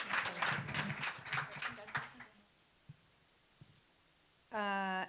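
A panel session audience gives a short burst of applause for the panelists that fades away within a couple of seconds, followed by near silence, a few faint knocks and a sustained tone.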